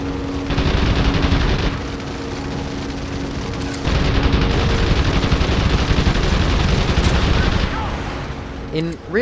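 Machine guns hammer in long continuous bursts during a World War II air fight against bombers in the Wings of Prey flight game, with engine roar underneath, loud and dense, pausing briefly before resuming.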